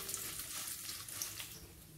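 Cumin seeds and broken dried red chillies fry quietly in oil for village-style drumstick-leaf stir-fry, a faint continuous crackle with no voices.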